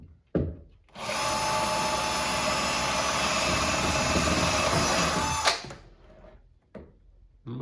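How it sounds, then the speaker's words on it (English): A power drill whines loudly and steadily for several seconds as it pre-drills through plywood, then winds down, with brief knocks before and after. "No, this is just me pre-drilling the ply."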